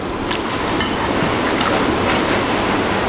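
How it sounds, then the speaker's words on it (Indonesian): Steady rain falls outside with a dense, even hiss of drops that holds loud and unbroken throughout, with no voices over it. "Di luar lagi hujan."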